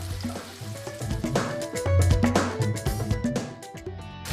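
Halibut fillet sizzling and crackling steadily as it pan-sears in hot oil, a close, loud, continuous fry with small pops and scrapes throughout, no talking.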